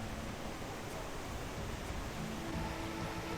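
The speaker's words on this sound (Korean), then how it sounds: "계곡에서 쏟아지는 폭포가 하얀 포마를 그리며 장쾌하고 우렁찬 물소리를 내고 흐르고 있어요" A waterfall pours down through a forested valley, its steady, full-bodied rush of white water continuous and close, filling the scene with a broad, even roar without pauses.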